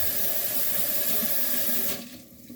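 Tap water runs steadily into a kitchen sink while a dish is washed and scrubbed, a full rushing splash that fades and thins near the end as the flow is cut, with no talking.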